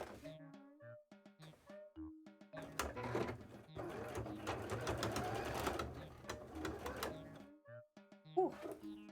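A sewing machine stitches bias tape onto a cosplay piece, running steadily for several seconds at moderate volume, with a person talking just before and after the run.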